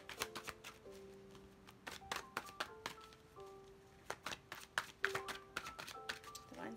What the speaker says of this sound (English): I'm just gonna pull a few cards here.